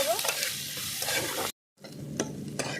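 Onions fry in oil, a bright sizzling hiss with spatula scrapes and clinks, broken by a sudden short silence before the sizzle resumes.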